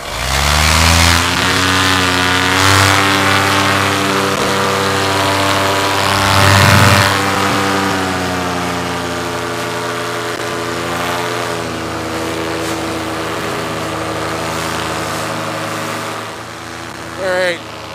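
A paramotor engine runs hard during a launch, a loud, steady buzzing drone close by that swells briefly and then holds an even pitch until it cuts off near the end.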